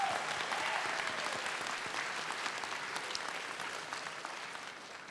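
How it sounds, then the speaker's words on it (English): An audience at a high school summer graduation ceremony applauds steadily in a large hall, a dense wash of clapping that slowly fades over five seconds. "Let's give one more round of applause for Bethel High School."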